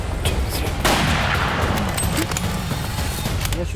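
Hunting rifle fired at a buffalo in Africa: one sharp, loud crack that rolls into a broad, echoing boom, with a few fainter cracks and knocks around it against outdoor ambience.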